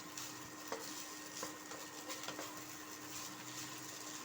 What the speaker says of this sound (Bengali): হালকাভাবে নেড়ে দিতে হবে